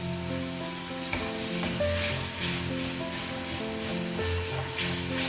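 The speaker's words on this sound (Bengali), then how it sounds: "এই যে টমেটোটা একদম চপ করে রেখেছিলাম, সেটাও এর মধ্যে দিয়ে ভালো করে আমি এখন কষাবো।" Chopped tomato sautés in a pan of oil, a steady sizzle with stirring scrapes running throughout, close and fairly loud, no talking.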